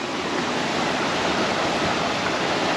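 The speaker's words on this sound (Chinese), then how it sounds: "有个小瀑布" A small waterfall in a Lebanese canyon, a dense, unbroken rush of falling water, loud and close, with no voices.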